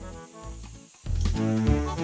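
Quiet kitchen noise, then sliced leek hits hot oil in a pan and a loud, steady sizzle starts and continues.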